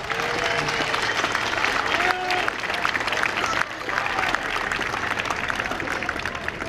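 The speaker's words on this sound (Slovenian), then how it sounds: "En aplavz za komentar." Steady applause from a crowd at a heated public meeting in Črnomelj, filling the hall continuously at close range for several seconds with a brief dip midway.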